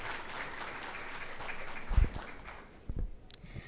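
An audience at a panel discussion gives a round of applause, a steady wash of clapping with a few louder swells near the middle and end.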